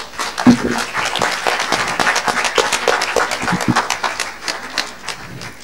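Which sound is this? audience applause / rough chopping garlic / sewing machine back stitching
audience applause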